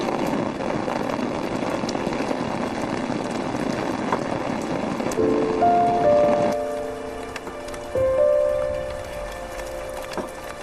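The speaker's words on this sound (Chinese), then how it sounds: "怎么下雨了？" Steady rain patters and hisses on surfaces, dense and continuous, then thins out partway with a few faint tones.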